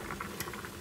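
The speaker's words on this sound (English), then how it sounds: "over here, I'm boiling some pasta" Pasta boils in a pot with a soft, steady bubbling and faint popping, quiet and brief, with no voices.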